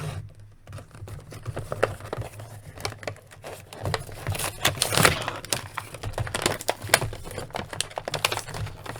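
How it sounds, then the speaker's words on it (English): A 2021 Hasbro Ghostbusters Winston Zeddemore action figure is pulled from its blister card packaging, giving a dense run of close plastic crinkling, crackling and snapping that swells in the middle. "Let's take this guy off the card."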